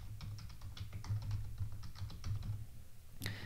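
A password is typed on a computer keyboard in a rapid, even run of soft key clicks, close and fairly quiet, ending in one sharper tap.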